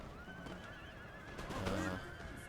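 Cavalry horses in a video game battle whinny in a loud, wavering neigh that rises and falls across the clip, with a second burst of whinnying and faint hoof clatter near the end over a steady battle background.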